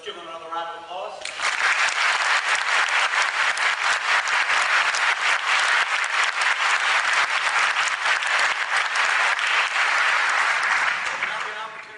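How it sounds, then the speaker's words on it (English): An audience at a public debate on God's existence bursts into loud, sustained applause for the debaters after a brief stretch of someone talking, and the dense clapping continues evenly until it fades slightly at the end. "let's give them another round of applause"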